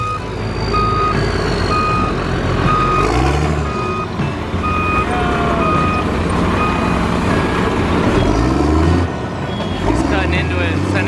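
A large four-wheel-steering truck reversing, its steady repeating backup beeps sounding clearly over a loud diesel rumble, with speech in the background.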